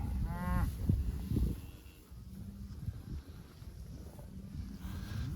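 Cattle moo during a twice-daily move of 120 cow/calf pairs near Coronation, Alberta, with one clear, loud moo early on, then low mooing and shuffling herd noise under steady wind.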